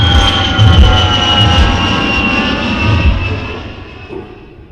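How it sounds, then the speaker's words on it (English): Airplane flying overhead with a loud sustained engine roar and a steady whining tone, slowly fading toward the end. "these airplanes are really annoying nowadays"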